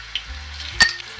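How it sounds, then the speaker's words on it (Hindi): Ginger garlic paste drops into hot oil and sizzles: a short, close hiss with one sharp spattering burst in the middle, no voices. "अब मैं ऐड करूँगी अदरक लहसुन का पेस्ट।"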